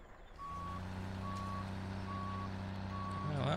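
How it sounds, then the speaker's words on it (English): A truck in Farming Simulator 17 drones with a steady low engine hum while its reversing alarm sounds four evenly spaced beeps, loud and close, with no voices. "I'm gonna go hop in this truck"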